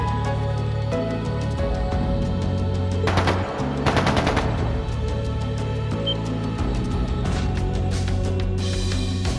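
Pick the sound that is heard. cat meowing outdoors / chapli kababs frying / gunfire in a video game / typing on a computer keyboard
gunfire in a video game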